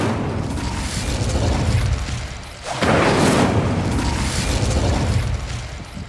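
Fire spell cast in Hogwarts Legacy, a loud roaring whoosh of flame that swells into a bright burst midway and then sustains with a crackling rumble before easing off.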